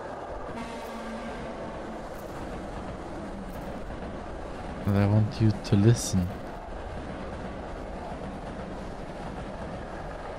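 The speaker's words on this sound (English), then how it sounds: "I was run over by a cursed train." A cursed train in a video game passes with a steady rumble and a burst of loud clanking rail knocks in the middle, while people talk over it.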